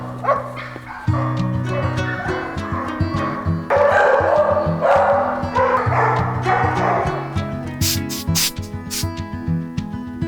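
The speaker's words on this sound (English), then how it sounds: "A surrender of a mama and her puppies just arrived." Several puppies at an animal shelter yip and whimper close by, high whines and short barks overlapping in a busy, restless stream.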